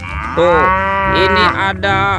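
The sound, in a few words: cow mooing, toy animal sound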